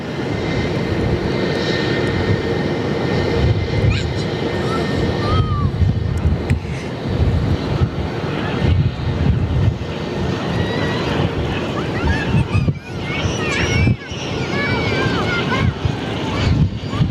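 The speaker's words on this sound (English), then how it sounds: "I've got an ATR on final" An ATR turboprop airliner on final approach at Perth Airport, a steady loud engine drone with whining propeller tones, heavy wind buffeting the microphone and occasional voices underneath.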